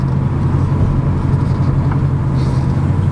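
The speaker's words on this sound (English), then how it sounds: "I'll stop up here while it's running, let you kind of hear the exhaust." Exhaust of a 1986 GMC High Sierra short-bed step-side pickup left idling, a steady loud low rumble droning evenly and close by with no talk over it.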